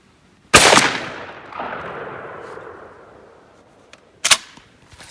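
A 10 gauge shotgun fires a load of #1 buckshot with original buffer through a 695 choke outdoors, one loud sharp blast with a long rolling echo, followed by a quieter metallic click of the action.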